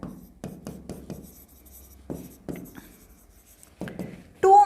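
A pen or marker scratches in short, separate strokes on a board during a class 12 accounts lesson. The strokes are fairly quiet and are followed by a louder scrape at the end.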